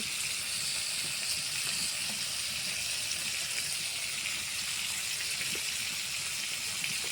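Steady, close sizzling of prawns frying in a hot pan, a continuous hiss with no pauses and no talking.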